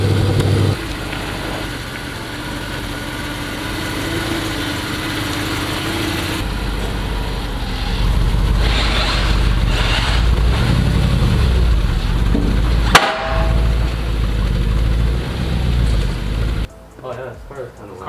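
A stock-exhaust car engine idles steadily with a low, continuous rumble, rising a little midway, while people talk nearby throughout.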